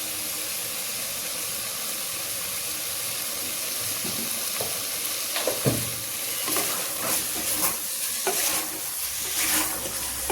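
Chicken pieces cooking in masala for biryani in a pan, a steady loud sizzle with stirring clatter and scraping throughout, no voices.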